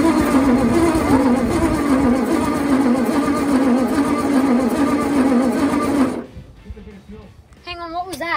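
A 1962 Bedford TJ truck engine cranks with a loud, steady churning drone for about six seconds, then cuts off abruptly into quieter background sounds with brief voices near the end.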